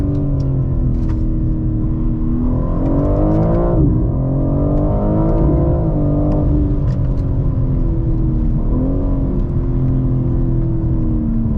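A 2022 BMW M4 Competition G82 rear-wheel-drive engine held at high RPM, a loud sustained roar with rising and falling revs heard from inside the car, continuous for the whole span.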